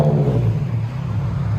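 A 2014 Infiniti Q60 S with a 3.7L V6 and straight-piped dual exhaust rumbles loudly and steadily up close, its deep low drone holding through a short rev with no talking.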